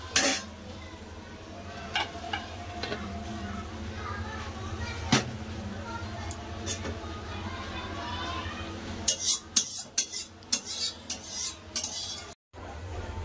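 Fish curry is poured and scraped out of a cooking pan, giving a quiet bed of metal clinks and spoon-on-pan stirring, then a busier burst of scraping and clatter toward the end.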